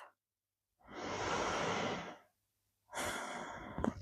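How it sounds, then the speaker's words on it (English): Two slow, deep breaths during a beginner yoga practice, each a soft airy exhale close to the microphone, separated by a quiet pause. "Deep breath."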